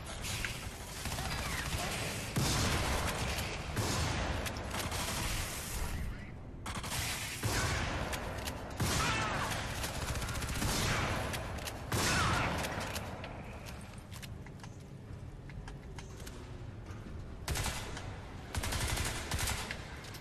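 Video game gunfire in Crysis 3 crackles in repeated bursts and scattered shots over a busy background of game noise, moderately loud throughout, with brief quieter gaps between volleys.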